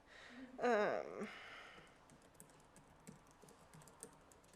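Clicky computer keyboard typing rattles in quick, irregular bursts at close range, fairly faint, following a brief louder voiced sound near the start.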